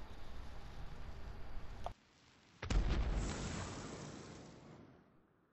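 A black powder bomb going off in Ghost of Tsushima: a sudden sharp blast followed by a broad rumbling boom that slowly fades, coming after a stretch of steady background noise and a brief quiet gap.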